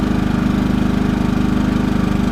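A Champion 3100-watt inverter generator runs steadily under load, a loud, close, even engine drone with a fast regular pulsing throb and no talking.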